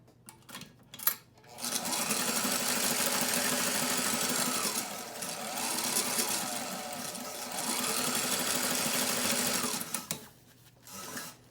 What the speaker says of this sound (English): I'm going to zigzag stitch along the bottom, leaving a little bit of an edge